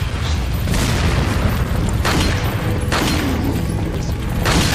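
A barrel blowing up in Resident Evil 4, heard as a series of loud, dense booming bursts that repeat roughly every second over a constant roar, with no voices.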